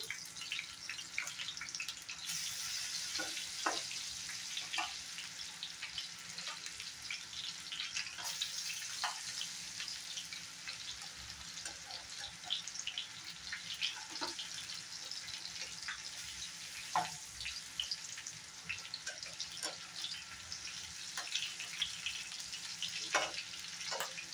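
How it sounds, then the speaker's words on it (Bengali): Eggplant slices for brinjal chops fry steadily in hot oil, giving a continuous close sizzle with scattered pops and crackles running without a break and no talking. "বাকিগুলো আমি একটা একটা করে এইভাবে বসিয়ে দেবো তেলে।"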